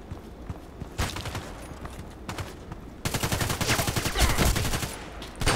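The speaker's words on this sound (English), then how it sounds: "Why is he shooting me?" Gunfire in the online shooter Contract Wars, with a sparse exchange of shots early on, then a dense, rapid automatic burst running through the second half, loud and close.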